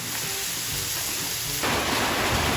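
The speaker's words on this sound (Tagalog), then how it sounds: "sobrang lakas ng ulan" Heavy rain pours down steadily as a dense, loud hiss, with a faint kitchen clatter early on before the downpour swells even stronger and fills everything.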